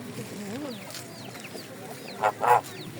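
Chickens clucking at a town fair market in Berdychiv, a few short calls over a murmuring crowd, followed by two louder, close clucks near the end.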